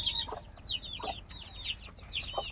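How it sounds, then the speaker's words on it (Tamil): Chickens and chicks on a rural farm, with repeated thin high chick peeps over a few low hen clucks, fairly close and steady with no talk. "ஒரு 25 குஞ்சு இருக்குது, கோழி குஞ்சு."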